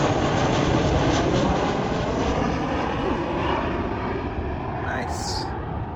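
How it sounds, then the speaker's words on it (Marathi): A low-flying airplane near Portland airport roars overhead as a broad, steady, loud engine rumble that fades slightly toward the end, with a voice speaking briefly in the background. "पोर्टलँड एअरपोर्ट जवळच आहे म्हणून एवढा खालून जात आहे प्लेन."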